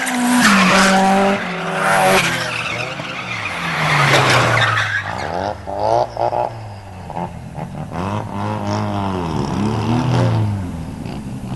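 A drifting car on a street throws out long, loud tire squeals and skids over a revving engine, with the squeal rising and falling in sweeping waves from close by.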